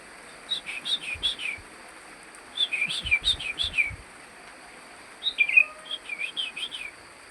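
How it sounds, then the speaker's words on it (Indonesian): A sooty-headed bulbul sings three bursts of bright, bubbling warbled phrases, each about a second long, separated by short pauses, with faint low thumps under the first two, in the early morning. "Untuk burung kutilangnya gacor"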